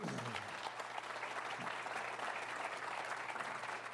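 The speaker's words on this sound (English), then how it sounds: "Thank you for that scattered applause." Scattered audience applause at a Churchill Club luncheon fills the room steadily for the whole stretch, a dense, moderately loud patter of many hands with no voices rising above it.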